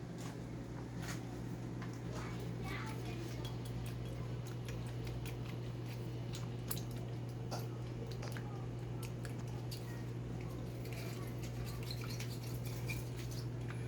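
Repashy gel fish food mix is stirred in a container, producing soft, continuous sticky squishing and light clicking over a steady low background hum.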